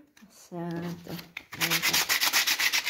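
Sandpaper scrubs moss off the bottom of a sailboat hull in quick rhythmic strokes, close up, after a short squeaky rub at the start.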